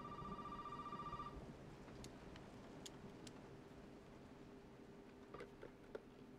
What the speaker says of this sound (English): And now the phone is ringing.